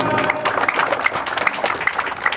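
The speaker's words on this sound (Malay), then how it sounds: "Kasih tepuk tangan penonton untuk semua regu." Audience applause at a village quiz competition in Gampong Blang Batee, a steady close wash of many hands clapping with scattered sharper claps throughout, no voices.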